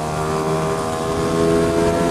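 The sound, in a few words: Lambretta scooter engine running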